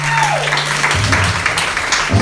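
A church congregation breaks into applause during a worship service, a brief burst of clapping and crowd noise following a tone that slides downward, with a preacher's voice nearby.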